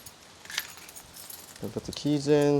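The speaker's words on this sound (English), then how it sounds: "As long as I put the keys in" Keys jingle and scrape briefly against metal as they go into a Mazda Miata car door lock, followed by a person speaking nearby.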